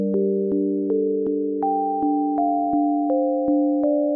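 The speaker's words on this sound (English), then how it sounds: "This is actually just a sine pluck." A dry sine pluck synth patch from Dune 3 plays a steady run of short, evenly spaced notes with soft clicky attacks, the pitch stepping between a few tones, clean and alone.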